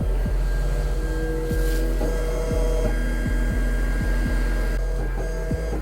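A cutting plotter slices polyflex vinyl for t-shirt heat-press printing, its motors whirring and buzzing steadily over a constant hum, with repeated short swooping sweeps as the blade head shuttles back and forth.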